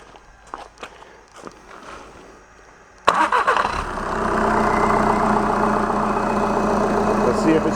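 A Volkswagen TDI CJAA diesel engine cranks and fires up on a test wiring harness after a few quiet knocks and footsteps, then settles into a loud, steady idle.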